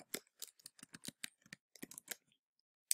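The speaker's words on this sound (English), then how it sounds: "do I keep typing commas?" Rapid clicking keystrokes on a computer keyboard while entering an APA citation, a string of irregular close taps with short pauses, one final louder key strike, no talk.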